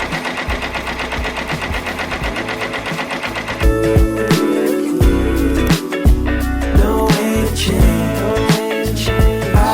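An embroidery machine stitches at a craft setup, a close, loud mechanical chattering that steadies into a rapid rhythmic needle pulse with regular thumping beats.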